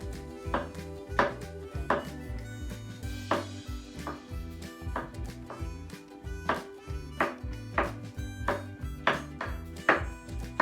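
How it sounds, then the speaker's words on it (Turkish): A knife slices chestnut mushrooms into strips on a cutting board in steady, evenly spaced taps about twice a second, close and clear, with no talk. "Bunları şerit şerit doğruyorum."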